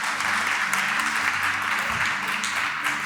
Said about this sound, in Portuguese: Queria que você desse uma salva de palmas para os meus amigos.